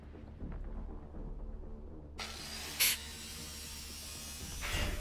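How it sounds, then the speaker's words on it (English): Hoovering up scrap in The Last Caretaker video game: a low mechanical hum, then a sudden airy suction hiss with a short louder burst, running steadily to the end. "Let's just hoover up all of the"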